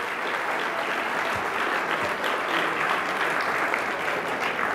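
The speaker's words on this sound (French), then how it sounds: "une bonne main d'applaudissements" A banquet audience at an induction ceremony breaks into steady applause, a dense, even wash of clapping hands from a large crowd lasting several seconds without a break.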